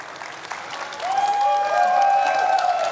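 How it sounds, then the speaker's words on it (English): An audience at a crypto conference stage event bursts into applause, first moderate and then swelling into a loud, steady wash of clapping that carries on to the end, with a few cheers and whistles mixed in. "Let's give a large round of applause."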